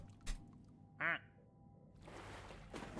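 A single loud duck quack from the Age of Empires video game sounds about one second in, surrounded by quiet game background and a brief click, with a swelling ambient wash later.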